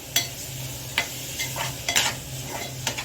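Bombay duck (bombil) chutney with masala and green chilli being stir-fried in plenty of oil: a low steady sizzle broken by several sharp spatula scrapes and clinks against the pan at irregular intervals, close up.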